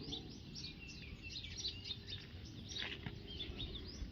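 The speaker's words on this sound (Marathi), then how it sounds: "पक्ष्यांचा कसा कालवा चालला आहे" Many small birds chirp and twitter together in a busy, continuous morning chorus, moderately close, over a low steady background rumble.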